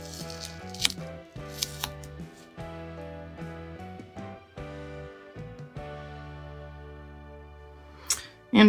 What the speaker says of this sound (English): And trim off the excess.